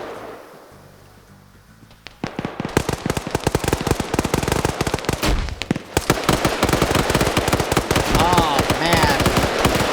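Rapid bursts of automatic gunfire and grenade blasts fill an online multiplayer battle, loud and dense, with a brief exclamation from a voice at the start.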